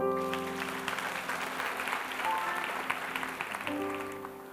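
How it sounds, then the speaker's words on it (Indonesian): A church congregation at a sermon applauds in a steady, sustained wash of clapping while organ or keyboard chords sound underneath, the applause holding at an even level throughout. "Beri tepuk tangan untuk Tuhan"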